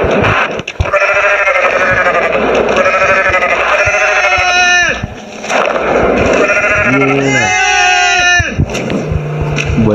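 Goats in the video game Goat Simulator bleat loudly and repeatedly, drawn-out wavering cries overlapping one another with barely a pause, close up and filling the whole stretch.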